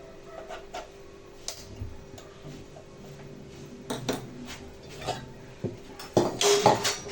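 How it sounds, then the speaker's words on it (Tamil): A metal lid clatters onto a cooking pot in a home kitchen with a few sharp knocks near the end, after quieter scattered taps and light handling noises. "மூடியை போட்டு மூடி போட்டு வச்சிடலாம்"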